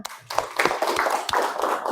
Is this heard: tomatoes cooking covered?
no